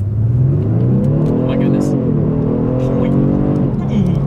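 A Genesis G70 sedan with a 3.3-liter twin-turbo engine accelerates hard, its loud, close engine note climbing in pitch, dipping briefly at a gear change, then rising again.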